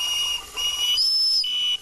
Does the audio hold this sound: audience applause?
no